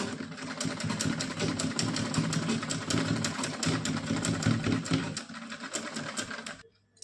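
A sewing machine stitches lace onto a small cotton dress, running in a steady fast rattling hum for several seconds before stopping abruptly.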